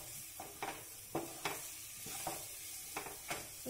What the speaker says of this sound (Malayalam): നൂഡിൽസും കൂടെ ആഡ് ചെയ്തിട്ട് നന്നായിട്ട് മിക്സ് ചെയ്തെടുക്കുക